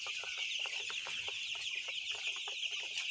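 Chickens on a poultry farm on a cold winter morning give repeated short clucks, a busy irregular flock chatter at close range with no voices.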